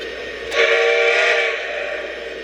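A LionChief model train engine, a North Pole Central Pacific locomotive in legacy mode, gives a single short steam-style whistle blast lasting about a second, fairly loud and close, with a faint background hum before and after.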